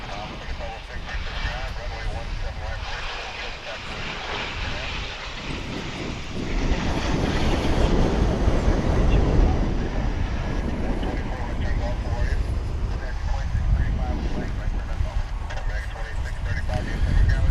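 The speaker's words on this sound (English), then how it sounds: "This American Airlines A321 is bound for Cancun in sunny Mexico" American Airlines Airbus A321 jet at Dallas Fort Worth airport, a rumbling engine roar that swells louder partway through and stays strong, with wind buffeting the microphone and a voice talking over it.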